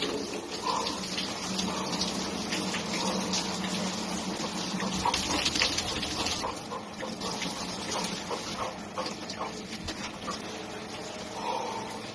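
Water churns and splashes around a person submerged in a cold plunge, a steady moderate wash of rushing water with no talking.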